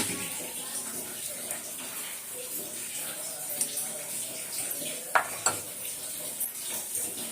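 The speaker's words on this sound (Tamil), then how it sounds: "இப்போ குழம்பு நல்லா கொதிக்குது." Steady bubbling and simmering of fish curry in a pot, with a few soft clinks of a utensil against metal near the end.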